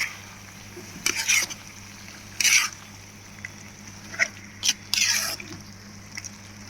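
Eggplant curry being stirred in a large pot, two kilograms' worth: several short scraping, wet bursts of the spoon against the pot, spaced irregularly over a low steady hum, with no talk.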